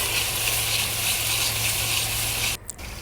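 Malai (cream) sizzling in a pan over a low gas flame while being stirred to render desi ghee: a steady, close, bright frying hiss with a faint low hum, then a brief scrape and drop near the end.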